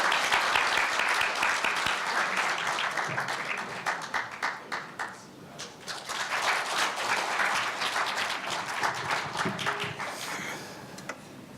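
An audience at a university newspaper's 70th anniversary ceremony applauds to welcome the university president on stage, with long steady clapping that dips briefly and then swells again before tapering off.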